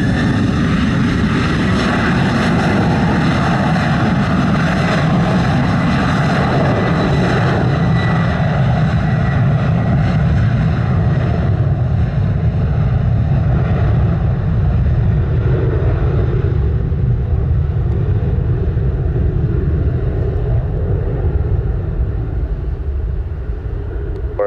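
A United airliner taking off from runway 07 in Jamaica, a loud sustained engine roar that holds steady and then slowly eases as the aircraft pulls away.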